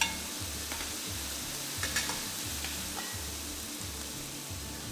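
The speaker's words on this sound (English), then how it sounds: "Fry them till they are fragrant." Broad bean paste, grated ginger and garlic frying with pork in a pan: a steady loud sizzle with the scrape of stirring against the pan.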